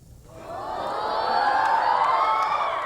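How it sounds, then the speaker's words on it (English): A crowd bursts into loud cheering and screaming with applause underneath, swelling quickly after a brief quiet start and staying dense and high-pitched to the end. "It's met with huge applause and cheers."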